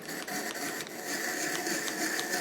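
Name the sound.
manual apple peeler and slicer being cranked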